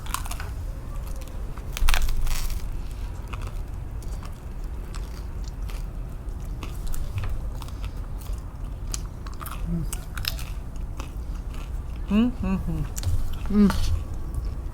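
Someone bites and crunches into a crispy Kinder Bueno cake layered with Russian sauerkraut and caramelised onion, scattered crunchy chewing sounds close to the mic amid outdoor park ambience, with brief voices near the end.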